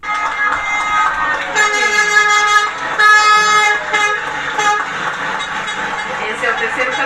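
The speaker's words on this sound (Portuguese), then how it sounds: "Esse é o terceiro caminhão que está passando, está entrando." Horn blasts from a truck delivering oxygen to a hospital in Roraima, Brazil, sounding in repeated loud honks over busy street noise, with people talking nearby.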